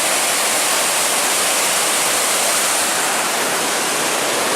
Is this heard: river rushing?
yes